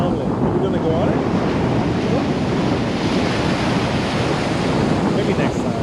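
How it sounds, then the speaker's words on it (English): Strong wind blows steadily across a beach in Playa del Carmen, Mexico, a loud continuous roar buffeting the microphone, with surf rumbling underneath throughout. "And it's a windy day."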